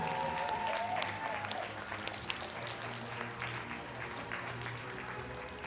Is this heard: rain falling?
no